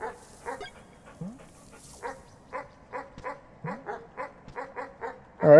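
Rhythmic electronic barking from a dog in the video game Animal Well, short evenly spaced yaps with occasional rising whines, ending in a louder burst of game noise.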